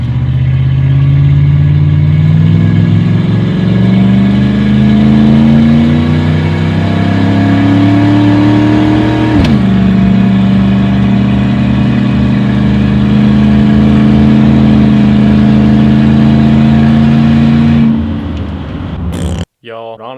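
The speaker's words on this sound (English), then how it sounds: "I'll just go drive it right now" A Cadillac fitted with a cold air intake drives along, its engine droning steadily and rising in pitch as it accelerates, dropping at a gear change, then holding a loud, close cabin hum.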